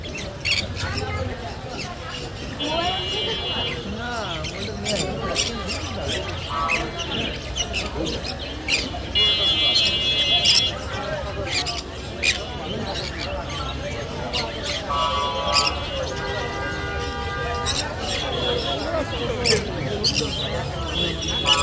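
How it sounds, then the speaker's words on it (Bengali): Lovebirds, parrots and pineapple conures at the Mirpur 1 bird market in Dhaka fill a busy scene with dense chirping and repeated squawks, over steady crowd noise and talking. "পাখির কিচিমিচি ডাকগুলো অনেক সুমধুর"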